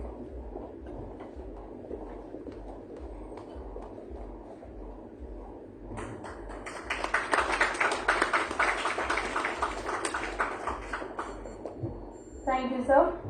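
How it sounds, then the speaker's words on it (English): Conference audience at IMS Ghaziabad breaks into a broad round of applause after a quiet stretch with a soft voice, the dense clapping building and holding for several seconds before tapering near the end. "Please have a huge round of applause for him"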